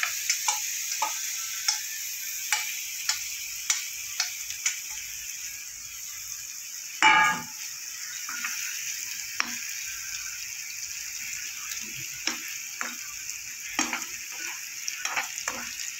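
Spice-marinated paneer for dahi paneer fries in a hot nonstick pan with a steady soft sizzle, punctuated by regular light taps of a spatula and one louder clatter midway.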